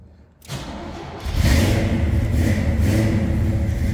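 A 1969 Chevrolet Camaro RS convertible with a 327 V8 built to DZ specs cranks briefly, then fires and settles into a loud, steady rumbling idle up close.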